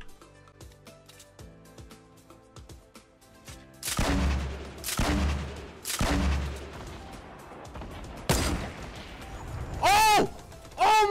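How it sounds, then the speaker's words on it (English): Sniper rifle gunfire in the video game Fortnite, several loud sharp cracks with ringing tails following quieter background game sounds, then a couple of chirpy sweeping effects, while a player talks. "God, I sniped him."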